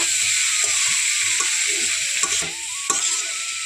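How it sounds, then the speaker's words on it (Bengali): Shredded cabbage sizzles steadily as it fries in a pan, with scraping and stirring strokes of a spatula running through the whole stretch; no talk. "তো অল্প অল্প এখানে অ্যাড করে এভাবে মিশিয়ে নেব একসঙ্গে পুরোটা দেব না"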